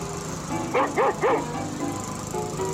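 A dog gives three quick, fairly close barks in a row over a steady background hum, with no one talking during them.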